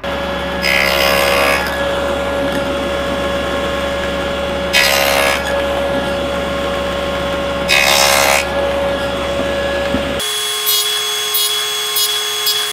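Dado stack on a table saw cutting the width of a wooden tenon for a dining table build: a steady loud machine whine with three separate bursts of cutting noise, then the motor stops abruptly and winds down.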